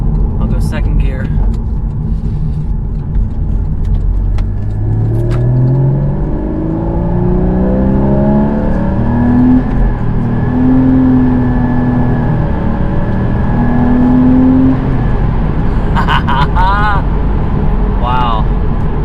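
A 2013 Porsche Boxster accelerates hard in second gear, its engine note climbing steadily in pitch as revs rise, loud and close from inside the cabin, with a brief drop and renewed climb near the end.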